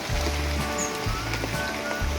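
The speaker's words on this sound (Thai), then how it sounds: "วันนี้ฝนตกหนักมากนะครับ ตกตั้งแต่เมื่อคืนนะครับ" Heavy rain pours steadily around fish breeding ponds after a night-long downpour, making a dense, continuous hiss with low, rumbling thumps underneath and no talking.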